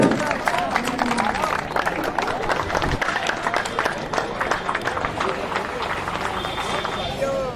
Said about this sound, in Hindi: हमारे विशिष्ट अतिथि और मुख्य अतिथियों का आप लोग स्वागत करिए। जोरदार तालियों से